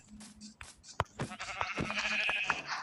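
Sheep bleating in the video game Minecraft, a few short bleats mixed with scattered clicks and game noises, fairly quiet, with some talk.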